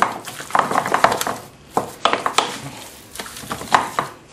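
Chicken burger mixture being mixed and kneaded, with irregular close clinks, thumps and scraping against a bowl in short bursts.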